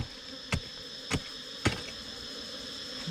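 Ground-nesting bees swarming outdoors: a constant, fairly faint insect buzz, broken by three short, sharp knocks spaced about half a second apart.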